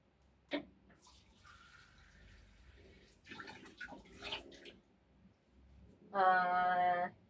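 Water splashes and trickles close by for about a second while poured by hand into glutinous rice flour for bilo-bilo, with light clatter and quiet handling sounds before it.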